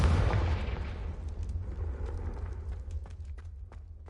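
A heavy magical blast from the Confringo spell in Hogwarts Legacy opens with a loud, deep boom, then rumbles and crackles away over several seconds.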